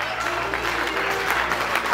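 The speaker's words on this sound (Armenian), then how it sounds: "բարձր ծափարենք մեր փոքրիկ Ժորայի ծննդյան տապանցությամբ" Steady applause from a gathered crowd at a baptism and birthday celebration for little Zhora, continuous dense clapping, loud and close, lasting throughout.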